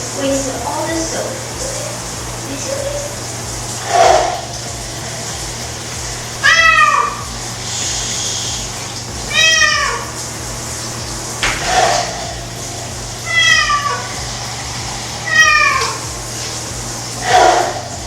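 Cats meow repeatedly during a bath at home, a series of short rising cries spaced every few seconds over steady running water, with a person speaking softly in between.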